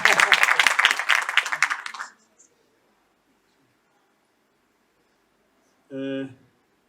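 An audience applauds at a foundation ceremony honouring a veteran musician, a close burst of clapping for about two seconds that cuts to silence, followed by a brief voice.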